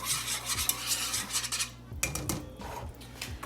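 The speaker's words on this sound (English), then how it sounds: "let me get a whisk. Okay. Mix all this up." A whisk clinks and scrapes against a pan while mixing water with orzo, a steady run of metallic rattles and scrapes that pauses briefly midway, then resumes with more clatter, fairly close with no voices.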